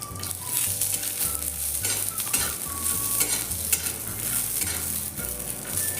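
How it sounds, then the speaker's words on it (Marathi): Peanuts roasting in a little oil in a pan, with a continuous close crackling sizzle and frequent rattling stirs of the nuts against the pan, steady throughout and no voices. "आता शेंगदाणे भाजून घ्यायचे आहेत, थोडेसे तेल टाकून भाजून घ्यायचे"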